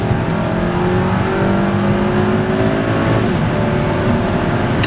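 A 2012 Volkswagen Eos with a DSG gearbox in sport mode accelerating on the highway, its engine droning loudly and steadily with rising tones over heavy road and wind noise throughout.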